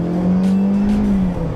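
A 2019 Mercedes-Benz A-Class with a 1.3 turbo engine pulls hard, its steady engine drone climbing in pitch before briefly dipping as it shifts gear, loud and close from inside the car.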